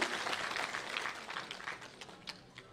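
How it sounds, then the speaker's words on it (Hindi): Audience applause welcoming a guest at a public government event, a dense, steady patter of many hands clapping that gradually thins toward the end. "एक बार जोरदार तालियों की गड़गड़ाहट से हम उनका स्वागत करना चाहेंगे आप सभी के बीच में"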